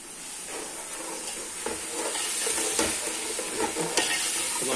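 Tomato masala and meat fry in a pot with a steady hissing sizzle, punctuated by occasional stirring scrapes and clinks, close and fairly loud.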